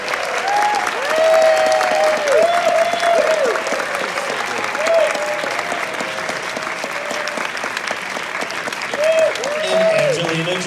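A theater audience applauds to welcome actress Alba Rohrwacher onstage, loud sustained clapping that runs the whole stretch while a voice speaks over it.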